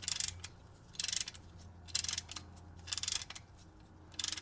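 A brake caliper spreader tool ratchets against the piston on a Lexus LX570 / Land Cruiser brake job, giving five evenly spaced bursts of crisp metallic clicking about a second apart, close and clear with no talking.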